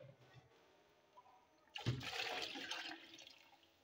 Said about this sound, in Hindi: तकरीबन 2 गिलास यखनी के बचे थे और 4 गिलास हम दूसरे पानी के डाल रहे हैं इसमें।